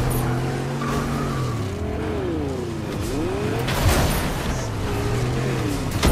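Car engine in Fortnite driving hard during a chase, revving up and down with swooping pitch changes and brief tire squeals, loud and close throughout, no voices.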